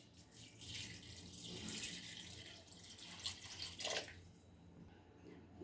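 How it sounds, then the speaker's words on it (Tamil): Water is added to a cooker, a faint, rushing pour that swells and fades over several seconds, ending with a brief splashy burst. "இது வேகைக்கு வந்து தண்ணி சேர்த்துக்கலாம்."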